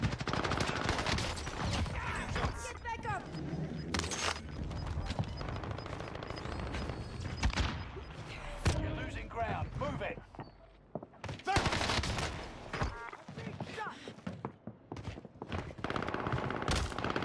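Video game gunfire on Rebirth Island, with an Owen gun among the weapons: rapid automatic bursts and scattered single shots crackle loudly in clusters, broken by short quieter gaps, while a player talks over parts of the action.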